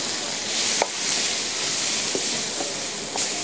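Fresh tomatoes sizzling in a hot pan, a steady broadband hiss with a few soft clinks of stirring, close and continuous with no talk.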